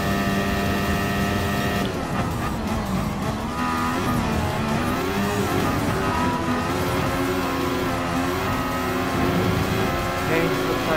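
Mercedes-AMG F1 race cars in a Gran Turismo Sport one-make race, their high whining engines droning and shifting pitch continuously throughout, with a voice talking over the racing.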